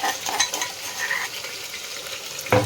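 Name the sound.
spice masala frying in hot tempering oil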